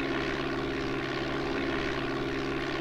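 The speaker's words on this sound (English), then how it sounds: "Turning down the throttle some." Steady propeller aircraft engine drone from the DOS game Flight Simulator 5.1 on a flight from Meigs Field to Chicago O'Hare, loud and continuous as the throttle is eased back.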